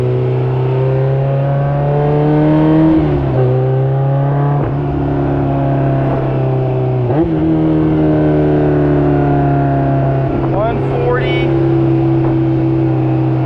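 A fully built K24-swapped Honda S2000 drones loudly from inside the cabin as it accelerates, its engine tone climbing and shifting through gear changes, with some talk over it.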